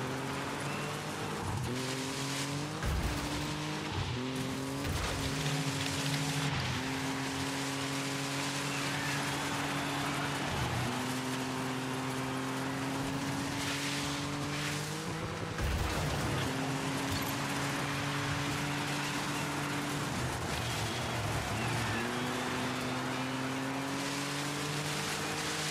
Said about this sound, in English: And it's starting to rain too